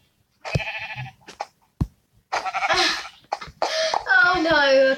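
Sheep bleating in a video game, several short nasal bleats in a loose irregular series, close and fairly loud, with broken gaps between calls.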